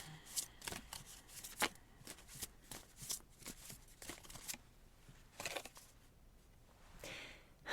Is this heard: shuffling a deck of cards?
yes